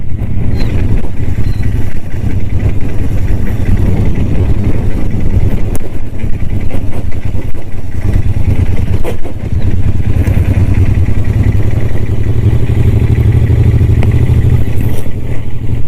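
A Royal Enfield Interceptor 650 rolls along in second gear on a casual ride among eucalyptus trees, its engine a steady, loud low rumble with constant wind buffeting the microphone throughout.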